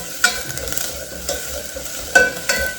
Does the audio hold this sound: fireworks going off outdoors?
no